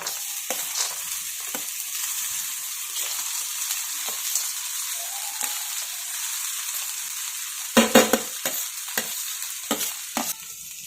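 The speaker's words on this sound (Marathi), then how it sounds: "अगदी हलक्या हाताने हा भात हलवून घ्यायचा" Rice being stirred gently in a hot pan over low heat, with soft scraping strokes and a few louder clatters over a continuous gentle sizzle.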